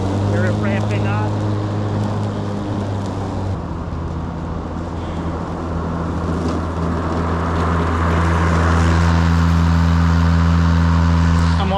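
Engine hum of a Ryobi 21-inch Whisper Series AWD mower working through thick grass, a steady tonal drone that drops, then swells and rises again toward the end, with road traffic in the background.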